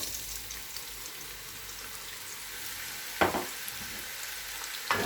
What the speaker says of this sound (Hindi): अब इसी ऑयल में हम प्याज डाल देंगे।